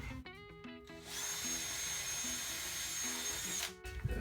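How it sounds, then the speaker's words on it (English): Power drill bores a hole in a wooden crosscut sled, a few short trigger blips followed by a sustained close whine of several seconds that winds down at the end. "We're gonna put one hole over on this end."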